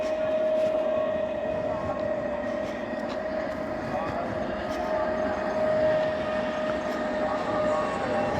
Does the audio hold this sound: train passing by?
yes